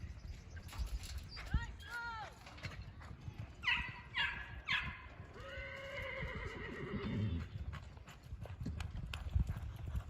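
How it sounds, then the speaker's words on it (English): Barrel racing horse at a jackpot event, a horse whinnying several times with a neigh over background clip-clop of hooves on dirt, crowd and distant voices faintly underneath. "the horse that's running right now"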